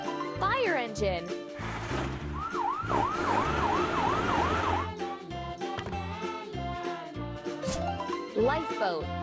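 Toy fire engine siren from a kids' transport cartoon, a wailing up-and-down tone in the middle of the passage, set against busy background music with sound effects before and after.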